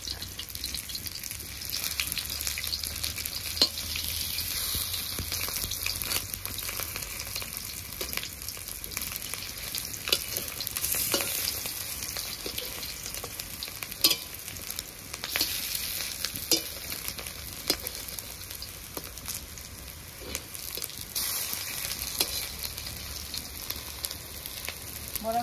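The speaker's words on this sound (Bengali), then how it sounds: "বড়াগুলো উল্টিয়ে নিয়েছি, এবার আরেক পিঠ ভাজা হতে থাকবে।" Flipped fish roe fritters keep frying in hot oil, a continuous, fairly quiet close sizzle with occasional small pops and crackles running evenly throughout.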